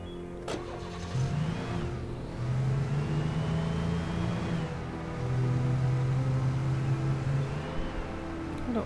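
A car in the video game Alan Wake starts up and drives, its mid-pitched engine humming in two long sustained stretches with a brief dip between, fairly close and clear with no talk.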